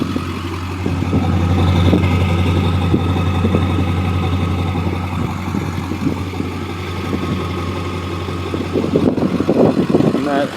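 A 2002 Ford F250 with the 7.3 Powerstroke diesel and a Banks Monster exhaust idles nearby, a loud steady low rumble with a throbbing pulse that holds for the whole stretch, without talk.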